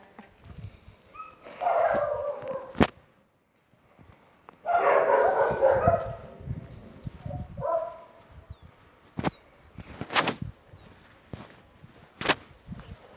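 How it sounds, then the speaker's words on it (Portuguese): A dog barks and yelps in short bursts with pauses between, fairly close, alongside a few sharp clicks or snaps. "nossa, vai ter aquele cachorro"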